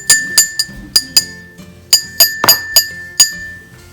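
A metal spoon taps water-filled drinking glasses in a homemade water glass xylophone, about a dozen bright ringing clinks in an uneven rhythm, each note sustaining briefly at different pitches, close and clear with no talking.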